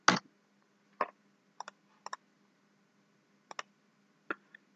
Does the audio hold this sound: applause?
no